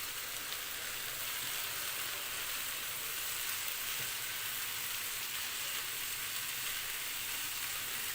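Onions and tomatoes fry in a pan for a homemade kaleji masala as a little water is added, producing a steady, even hiss of sizzling that continues unbroken throughout, close and moderately loud with no voices.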